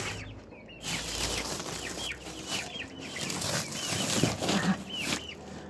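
A hen clucks among her chicks on a farm. Their thin, repeated peeps and soft clucks come through clearly, with a brief flutter of wings against a quiet background.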